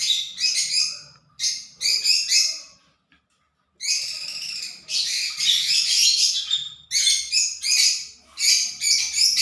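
Pet lovebirds kept at home chirp and squawk in shrill, rapid bursts, close and loud, with a brief quiet pause before the chattering resumes more continuously.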